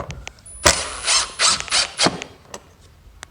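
Screws being driven into a Keter Store It Out Arc plastic bin shed, a close series of four or five loud ratcheting, grinding bursts from a driver, with small clicks before and after.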